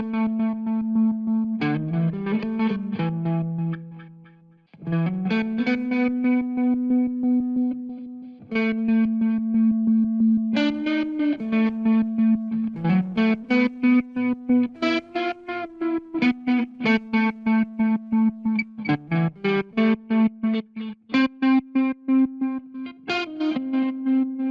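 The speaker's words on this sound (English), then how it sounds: "this makes the effect become distorted and rolls off highs as the tremolo drops the volume" A distorted synth or guitar line through a tremolo plugin that rolls off highs as the volume drops plays sustained notes, its volume pulsing in a steady throb that grows choppier toward the end.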